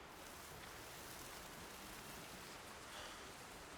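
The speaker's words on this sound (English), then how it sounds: "And there's the rain." Rain in Horizon Zero Dawn hisses as a faint, even wash of steady noise, with no voices over it.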